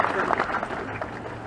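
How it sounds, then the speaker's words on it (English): Audience applause at a gathering about Kendrick Johnson's death: a short burst of steady crowd clapping, with voices mixed in. "Give yourselves a round of applause for being here today."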